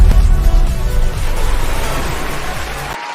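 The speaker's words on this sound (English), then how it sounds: "Oh, man, listen to that crowd out there. They are fired up today, Nick." A loud, dense crowd roar of cheering and applause fills the space steadily, then cuts off abruptly near the end.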